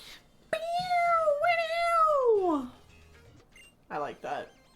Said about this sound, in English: Cat is bullying me off the bed.